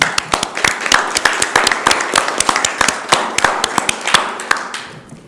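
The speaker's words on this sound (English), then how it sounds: "I'm going to give one last round of applause for both of y'all." Applause at a library board of trustees meeting: a small group claps in a steady, sparse run of sharp individual claps for about five seconds, fairly close and clear.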